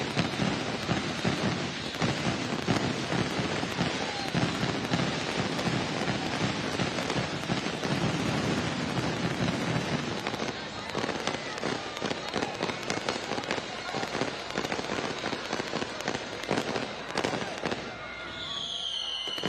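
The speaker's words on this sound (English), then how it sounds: "Fireworks to symbolize this semi-final." Fireworks at the Concacaf Beach Soccer Championship semi-final: a dense, continuous crackle of bursts and pops, loud and sustained throughout with a crowd-like wash underneath.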